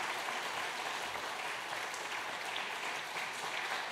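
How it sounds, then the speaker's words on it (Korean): A church congregation applauding during a Sunday service at Yongin Yeongnak Church, steady dense clapping filling the room without pause. "수료증과 선물을 드릴 때 박수로 축하해 주시기 바랍니다"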